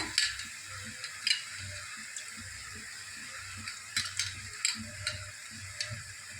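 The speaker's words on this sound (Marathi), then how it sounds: "डाळीला बी मिक्स करूया।" Lentils being stirred into cooking karade (hyacinth bean) vegetable in a pan, with soft, irregular scraping and stirring taps over a faint steady sizzle, close and quiet.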